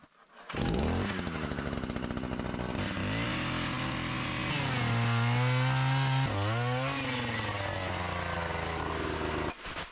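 A gas-powered ice auger drills through nearly four feet of lake ice, its small engine roaring steadily and close for about nine seconds, with the pitch dipping and rising as it bites in before cutting off.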